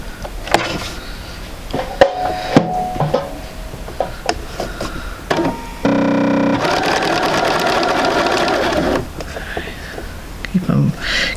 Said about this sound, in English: we're going to go ahead and sew these together, and we're just going to keep adding a few.